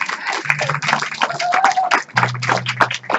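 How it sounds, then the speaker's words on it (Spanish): A congregation at a Baptist church breaks into scattered hand clapping, mixed with voices and sustained tones in the background. "Damos aplauso a Dios."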